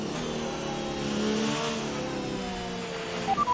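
A Formula 1 race car accelerates in the racing video game F1 2019, its engine whining up through the revs at moderate loudness, with a few short chirps near the end.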